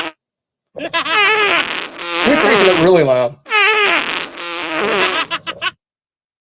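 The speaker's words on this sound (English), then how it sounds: "we got a fart sound tonight" A loud fart sound effect plays back in long, wavering, buzzy blasts, split into two drawn-out bursts with a short gap and a few sputters at the end, while a voice briefly speaks.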